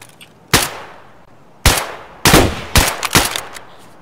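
Gunfire in the video game Escape from Tarkov: five or six sharp, loud shots, a lone crack, then a pause, then a quick uneven burst of closely spaced reports, each ringing briefly with no talk over it.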